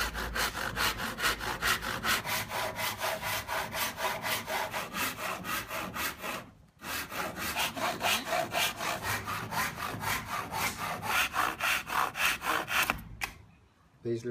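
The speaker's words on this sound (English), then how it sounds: "I pay the price of cutting this by hand, which is a bit of a mission" A wooden Langstroth hive box is cut by hand with a saw, fast regular rasping strokes close and steady, with one short pause midway and another near the end.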